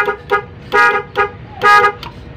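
Sixth tone of an NHAY 3+PRO MUSIC 8-tone car horn: loud, near electronic honks in a bouncy tune, short blips alternating with longer held notes, looping through the phrase twice.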